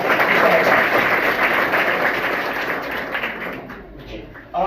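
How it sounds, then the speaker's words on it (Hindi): Audience applause at a school function in Mokalpur, Madiyahun, Jaunpur: dense, steady clapping fills the whole stretch, slowly thinning toward the end. "तो एक बार मैं चाहूंगा उनके लिए भी जोरदार ताली"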